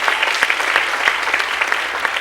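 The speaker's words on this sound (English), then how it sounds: "can we just have another round of applause for our task force members?" A town hall audience applauds its education task force members, a steady dense patter of many hands clapping close by, holding even through the whole stretch without voices.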